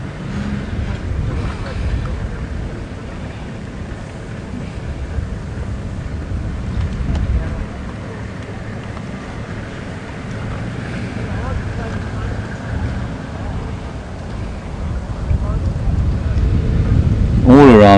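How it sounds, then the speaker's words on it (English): Vehicles idle and move around a safari game reserve drive while wind rumbles against the microphone, a steady low continuous roar that swells slightly near the end. "All around us, well, you can obviously of course hear the cars"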